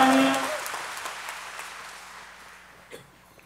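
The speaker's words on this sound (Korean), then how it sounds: "박수로서 맞이해 주시기 바랍니다." An audience at a national Catholic charismatic renewal conference applauds to welcome a guest speaker and his interpreter; the clapping starts moderately loud after a brief tone and fades gradually to a thin scattering.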